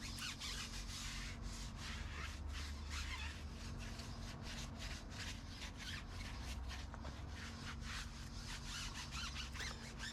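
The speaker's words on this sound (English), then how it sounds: "Scrubbing tires." Car tires being scrubbed with a brush during a wash, a continuous close rhythmic swishing over a steady low background hum, with no talking.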